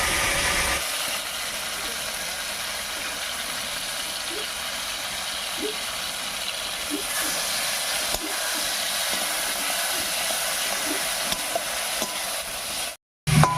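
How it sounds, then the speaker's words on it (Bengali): Ground spice paste for a Bengali posto dish is stirred as it fries in a pan, a steady close sizzle with soft scraping strokes running throughout. "মশলাটা দিয়ে একটু নাড়িয়ে নিয়েছি"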